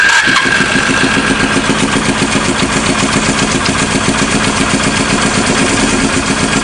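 Engine revved up during a controlled idle test with late-closing intake valve timing, giving a loud, close, steady rhythmic chug that holds throughout after a brief start.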